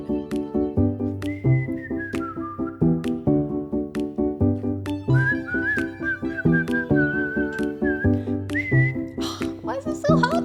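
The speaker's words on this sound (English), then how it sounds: "Why is it so hard to whistle?" A person whistling a wavering, uneven tune over a looping keyboard and acoustic backing in a live music session, the whistled notes sliding and breaking in and out above repeated chords.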